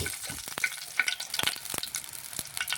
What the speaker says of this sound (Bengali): একটু পাঁচ ফড়ন ভেজে নিচ্ছি